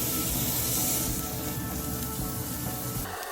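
A burger patty ball is smashed flat into the bottom of an oiled pot and sizzles, a loud, dense crackling hiss that runs continuously before easing slightly at the end.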